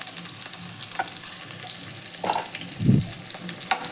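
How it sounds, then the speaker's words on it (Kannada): Ingredients for Hyderabad-style pappu sambar frying in ghee in a pan, with a steady close sizzle, a few scraping stirs, and a low thump near the end; no talking. "ಇದೆಲ್ಲ ಚೆನ್ನಾಗಿ ಫ್ರೈ ಆಗಬೇಕು"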